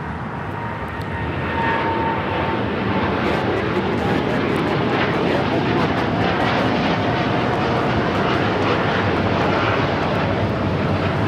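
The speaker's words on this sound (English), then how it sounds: "That was United Airlines Flight 801 taking off to Hong Kong on the 787-9 Dreamliner" A United Airlines Boeing 787-9 Dreamliner, bound for Hong Kong, takes off from Los Angeles International Airport. Its jet engines build into a loud, continuous roar that holds steady and fills the whole stretch.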